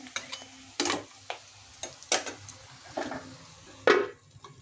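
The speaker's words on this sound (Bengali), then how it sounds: "এখানে ইলিশ মাছের তেল ফ্রাই হচ্ছে।" Hilsa fish pieces dusted with a little besan, cumin, turmeric and salt frying in oil: a soft sizzle under a series of separate stirring and turning sounds, roughly one every second, fairly quiet and close.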